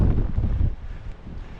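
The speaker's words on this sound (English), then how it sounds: "The gusts are crazy strong when they hit you." Strong gusty wind at a coastal cliff in Malta buffets the microphone in loud rumbling blasts that ease after about a second into a lighter, steadier rush.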